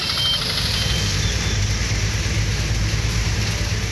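Steady rain pours down in Thanjavur district, Tamil Nadu, as an even, dense hiss throughout, with a low rumbling hum like an idling engine underneath and no voices.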